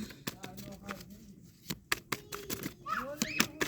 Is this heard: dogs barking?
no